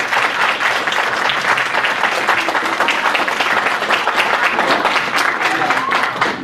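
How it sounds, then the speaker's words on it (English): Convention panel audience gives sustained applause for a merchandise vendor, a dense, loud, even wash of clapping that continues for several seconds with scattered voices mixed in. "Round of applause for the vendor, Sam."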